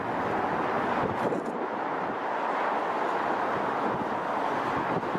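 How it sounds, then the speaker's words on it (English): Wind buffets a microphone at a Heathrow plane-viewing spot, a steady, loud broadband rush with gusty fluctuations throughout and no clear voices. "it's windy up here"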